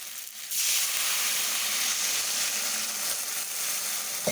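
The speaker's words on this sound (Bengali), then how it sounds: "দেখুন এখন দিয়ে দিচ্ছি একটু জল" Water hits a hot pan of frying cauliflower and potato masala and bursts into a loud, steady hiss of sizzling steam that holds strong for several seconds, with no talk.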